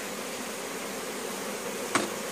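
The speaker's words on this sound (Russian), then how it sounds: "Все пчелы работают наверху." Steady low insect buzzing from many honey bees at a hive, continuous and moderately loud, with a brief sharp knock near the end.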